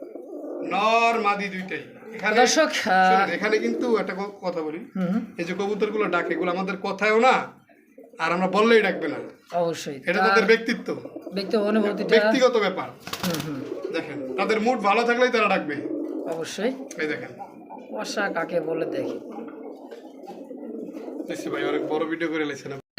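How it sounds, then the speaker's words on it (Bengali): A red male pigeon with a pot-shaped throat coos in repeated rolling phrases, close and fairly loud, the calls coming in bursts with short gaps. "চমৎকার রেড কালারের মধ্যে কলসি গলার মধ্যে চমৎকার একটা সিঙ্গেল নর কবুতর"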